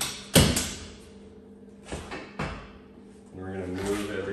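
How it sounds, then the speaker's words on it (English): Doors on a Polaris RZR Pro R side-by-side are shut in a garage: a sharp slam followed by a few duller thumps and clunks, with a person talking near the end. "what we're gonna do is we're gonna shut the doors."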